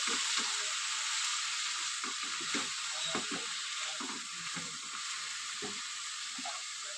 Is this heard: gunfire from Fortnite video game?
no